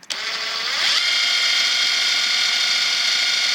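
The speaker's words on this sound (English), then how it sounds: "There it is at maximum setting, 850 RPM." A Kobalt 24V cordless impact driver spins up from a click to its top setting of 850 RPM, a whirring motor whose pitch rises quickly then holds a steady buzzing drone, close and alone.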